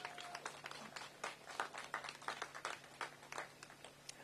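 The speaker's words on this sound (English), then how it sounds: "Let's give them a round of applause" A small gathering claps for the co-founders of the Academy of Construction and Design at a tiny homes unveiling in Deanwood, scattered claps fairly faint and distant.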